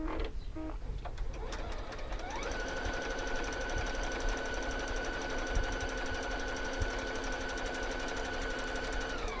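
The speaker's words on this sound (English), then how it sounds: "I am going to use stitch 37, and I'm going to stitch it as is without any changes." An EverSewn Sparrow 30S sewing machine runs decorative stitch 37 in a steady, fast, continuous whir with a mechanical hum, loud and close, alone after a few brief clicks at the start.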